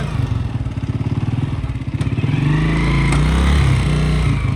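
An old Royal Enfield Bullet motorcycle engine runs close by with a steady, heavy thumping idle that swells louder and fuller about halfway through, as if the throttle is opened slightly.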